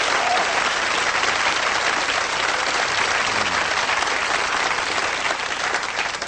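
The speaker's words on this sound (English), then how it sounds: "Give yourselves a round of applause, all right?" A large crowd at a motivational speaking event applauds loudly and steadily, a dense, continuous wash of clapping with no voices over it.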